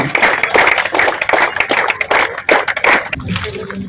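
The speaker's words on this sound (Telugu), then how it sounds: "చప్పట్లు కొట్టాలండి." An audience claps at an outdoor sports tournament opening ceremony, a dense, steady, fairly loud wash of many hands that thins out near the end.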